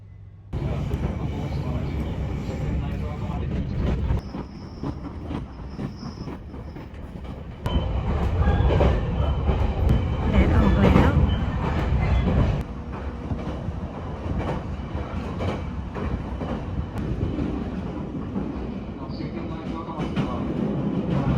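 A local train rumbles steadily along the rails through Japan's regional area between Tokyo and Fukushima, a continuous broad roar that swells louder midway, with faint voices mixed into the noise.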